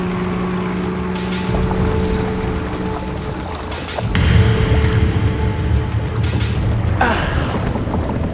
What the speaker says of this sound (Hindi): ये कोई मोटर बोट की आवाज है।